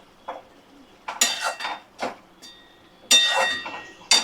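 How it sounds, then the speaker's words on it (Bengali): A pot of ghugni lifted off a home stove, giving a few separate metallic clanks and scrapes of cookware at close range, spaced by short quiet gaps, with no talking. "এবার নামিয়ে দেব ঘুগনিটা।"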